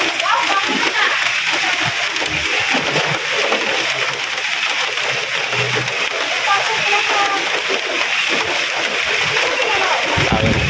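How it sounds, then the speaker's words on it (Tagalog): Water leaking from the roof splashes and pours steadily in a constant hissing spatter, loud and close, with voices talking faintly underneath. "Tubig yan dyan. Leak."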